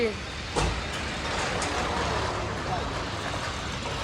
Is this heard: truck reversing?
yes